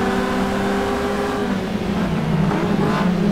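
A modded car engine in Assetto Corsa drones steadily with a rising rev, a smooth, synthetic-sounding Honda-like racing engine, continuous and fairly loud.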